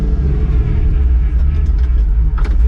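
A truck engine rumbling loudly and steadily while reversing, close up, with a deep continuous drone and small shifts near the end.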